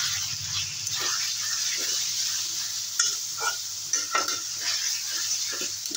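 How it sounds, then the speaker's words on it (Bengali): Chopped green chilies fry with salt, turmeric and Kashmiri chili powder for a fish-roe kofta curry, a steady close sizzle with intermittent scraping and stirring clinks from the pan. "একদম 2-3 মিনিটের মতো কষিয়ে নেব।"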